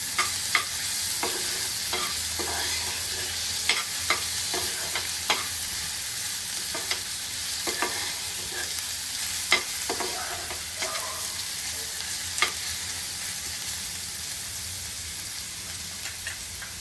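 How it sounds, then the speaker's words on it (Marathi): Onion with crushed ginger and garlic sizzling and frying in a pan for paneer bhurji, a steady close hiss broken by repeated sharp crackles and stirring scrapes, with no talking. "आलं लसूण ठेचा घालायचा आहे। कांद्याबरोबर थोडं परतून घेते।"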